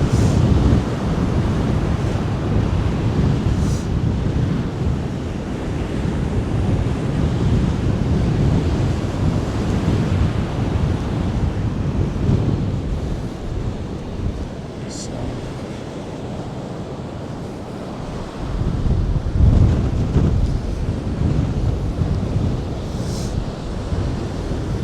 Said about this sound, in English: The waves almost caught me.